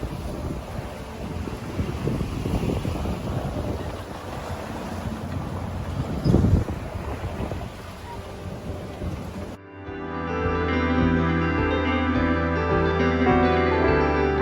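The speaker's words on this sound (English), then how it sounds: "Love it when the waves are like this." A sailboat rolls hard in rough seas on passage near Fair Isle and Westray, with steady wind roaring across the microphone and waves churning. Partway through, the wind noise cuts out and a loud, even tonal drone takes over to the end.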